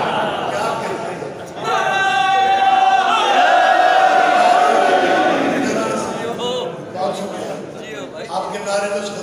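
Audience voices chanting together in a loud, sustained crowd swell at a Shia religious gathering in Mangwal, rising after a speaker's voice and fading back to talk.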